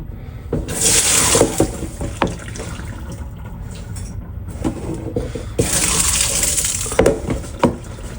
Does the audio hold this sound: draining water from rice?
yes